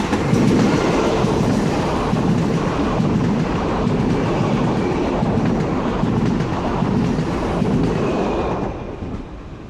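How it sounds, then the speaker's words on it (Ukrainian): A train departs a station bound for Toulouse, its loud, steady rumble and wheel clatter continuing close by before easing off toward the end. "Потяг зараз буде на тулузу їхати"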